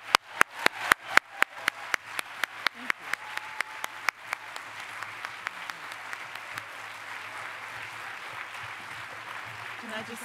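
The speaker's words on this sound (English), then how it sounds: "Please join me one more time in giving a round of applause to Sherrilyn Ifill." Audience applause for civil rights lawyer Sherrilyn Ifill at the Radcliffe Medal Ceremony, opening with loud, distinct individual claps that blend within seconds into a steady, sustained round of clapping from a large crowd.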